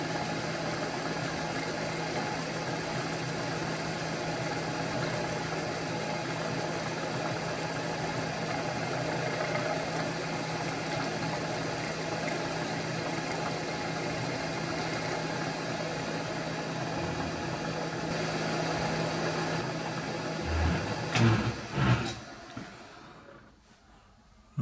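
A milling machine takes a very light facing pass across a Ransomes, Sims and Jefferies stationary engine regulator mounting, a steady continuous machining drone that runs unbroken for about twenty seconds before winding down with a few knocks near the end.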